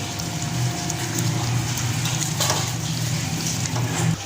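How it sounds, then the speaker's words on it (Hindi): Potatoes frying in a pan with red chilli, turmeric and salt for a Punjabi pakora curry, a continuous close crackling sizzle with no talking. "आलू अच्छी तरह भून रहे हैं"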